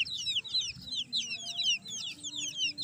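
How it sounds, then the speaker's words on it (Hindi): Active, healthy chicks chirp continuously at moderate distance, a busy overlapping chorus of high peeps over a low background hum, with no talking. "ये कितने ज़बरदस्त किस्म के एक्टिव हेल्दी चिक्स हैं"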